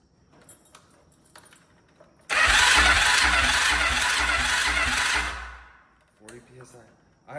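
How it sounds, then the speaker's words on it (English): The electric starter on a quad ATV with low compression cranks its engine in one loud, rough, grinding burst lasting about three seconds, then winds down, with someone talking before and after. "I'd say that starter does sound terrible."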